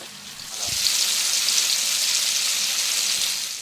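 Apples caramelizing with powdered sugar sizzle softly in a pan on a gas stove, a steady hissing fry that swells in and holds evenly, with a faint clunk near the start.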